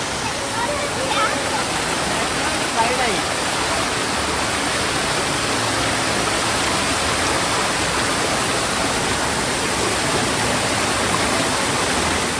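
A small stream spills over a little waterfall in a natural setting, giving a continuous, even rush of flowing water that fills the whole stretch at a steady level.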